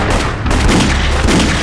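Gunfire in a war drama, with a loud dense burst of shots and booms that keeps going without a break through the whole stretch and masks everything else. No one speaks.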